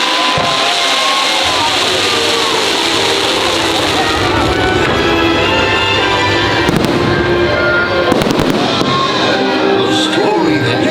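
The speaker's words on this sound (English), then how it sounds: "They are gonna put the fireworks on." Fireworks at Mickey's Not So Scary Halloween Party crackle and boom loudly on a rainy night over a dense, noisy crowd with voices, building into a burst of sharp bangs near the end.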